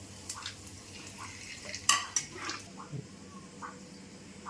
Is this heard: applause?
no